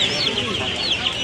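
Fancy-breed chickens at the crowded Tongi bazaar poultry market in Bangladesh give off dense, overlapping clucks and squawks, close and loud and continuous throughout.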